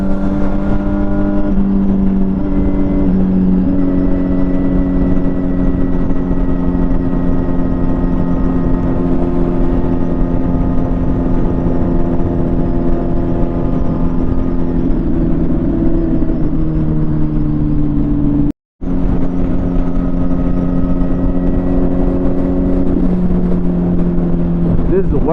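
Steady engine drone from a 2007 Kawasaki Ninja motorcycle cruising in sixth gear at about 6,000 RPM on a two-lane road, a sustained harmonic hum with slight pitch shifts, loud and continuous apart from a brief dropout near the end.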